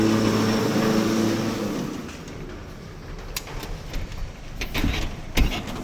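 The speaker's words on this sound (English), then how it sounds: "There's a truck here." Truck in a parking garage, its low engine drone fading over the first few seconds, then echoing clanks and thumps in the enclosed space.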